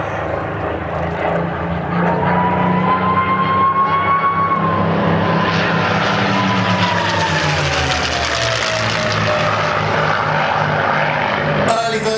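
Piston-engined propeller aircraft, a P-51 Mustang escort fighter, droning loud and steady throughout with a rising then falling pitch as it passes, ending in a sharp burst.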